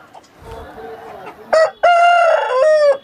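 An Aseel rooster at the Balrampur poultry market, West Bengal, crows loudly and close by, a sharp opening note followed by a long, strained, drawn-out crow, with faint clucking beforehand.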